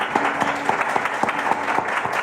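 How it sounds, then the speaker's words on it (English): Audience at a radio theater show giving a round of applause, steady clapping with some distinct individual claps standing out rhythmically from the crowd, continuous for the whole stretch. "How about a round of applause?"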